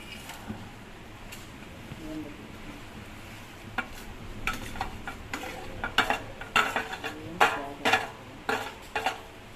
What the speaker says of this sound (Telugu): ఇప్పుడు మరిగిన పాలల్లో ఈ సేమియా వేయాలి.